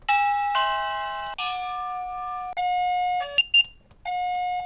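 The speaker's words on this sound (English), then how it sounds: "so you can be able to tell that someone is ringing the doorbell" SECRUI wireless doorbell cycling through several different electronic chime melodies, each a bright multi-tone ring separated by short pauses, clear and close with no talking.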